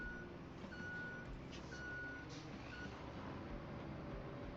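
Reversing beeps from a truck in the Roadcraft video game sound as a steady series of evenly spaced electronic tones over a constant engine rumble and ambient noise, with no talking.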